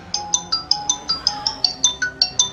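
A phone ringtone plays about a dozen bright, evenly spaced electronic chirps in a quick repeating rhythm, loud and close, with nothing else heard.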